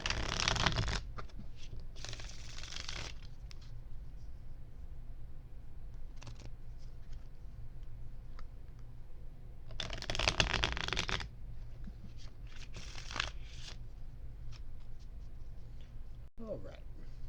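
A deck of cards is shuffled several times, with quick riffling bursts separated by quieter pauses with faint handling noise, up close.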